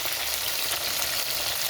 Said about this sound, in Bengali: দেখুন মাছটা কিন্তু এরকমই ভাজতে হবে, খুব কড়া ভাজা হবে না